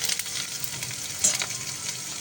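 Crushed ginger and garlic frying in a pan for a crispy chilli baby corn dish, a steady close sizzle with small crackles and a brief stir partway through.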